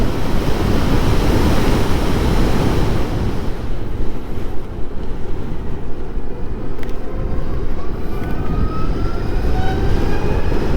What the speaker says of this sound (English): I can hear more wind noise than anything else.